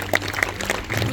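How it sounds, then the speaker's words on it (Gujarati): A stage audience at a traditional Indian state dishes event claps to welcome the Gujarat team, a short burst of fairly close, uneven applause lasting about a second. "તો જોરદાર તાળીઓ સાથે ગુજરાતનું સ્વાગત કરીએ"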